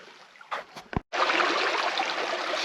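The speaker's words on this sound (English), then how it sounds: "So no water flowing over the waterfall, but flowing underneath." Water running steadily beneath a dry waterfall among rock and fossils, a constant rushing wash that sets in after a few short knocks and a brief silence.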